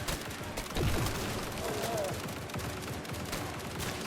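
Rapid gunfire from the video game Grind Survivors rattles in a fast, continuous stream of shots at moderate level, with faint game effects mixed in.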